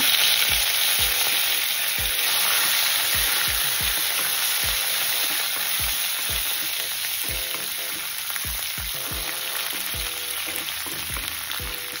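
Crushed garlic, dried red chillies and curry leaves fry in hot oil for a village-style bitter gourd dish, with a steady loud sizzle throughout and repeated stirring taps of a spoon against the pan, and no talking.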